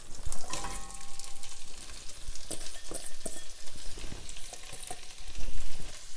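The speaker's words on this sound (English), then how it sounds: "Now to the butter, we will add our fennel and our onions." Sliced fennel and onions frying in melted butter in a pan for asparagus soup, a loud continuous sizzle broken by scraping and stirring clatters of a utensil, close up, with no voices.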